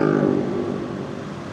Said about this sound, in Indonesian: Itu truk apa gede banget sih.